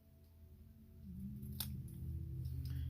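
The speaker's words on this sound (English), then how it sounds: "So I'm just going to take my scissors" Scissors snip once through paper card while making a stamped Christmas card, a brief sharp cut heard near and quiet amid low handling noise.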